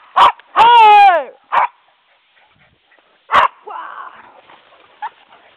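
A dog gives a few sharp barks and a drawn-out whining yelp, with short pauses between, fairly close.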